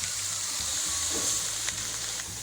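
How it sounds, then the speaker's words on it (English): Onion, celery and pepper sauteing gently in olive oil, a soft steady hiss of sizzling with a few faint clicks, low and continuous. "And we're going to sweat, a little bit saute vegetables."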